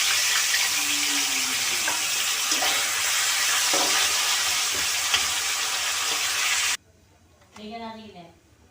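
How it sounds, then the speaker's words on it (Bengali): Fish frying in oil in a kadai, a loud steady sizzle filling most of the clip before it stops abruptly, followed by a brief quieter sound near the end. "বাদ বাকি যে মাছগুলো রয়েছে সেগুলোকে আমি সব ভেজে নেব।"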